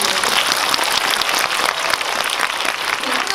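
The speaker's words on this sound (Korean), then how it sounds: "박수 한번 부탁드릴게요" Audience applauding at a film screening Q&A in a CGV cinema hall in Yongsan, a dense, steady clapping that stays loud for the whole stretch with no voices over it.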